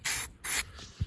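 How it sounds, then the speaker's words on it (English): Two short hissing bursts from a spray can of SEM self-etching primer on a tumbler, each lasting about a quarter second, followed by a faint soft thump. "So we'll go ahead and get spraying."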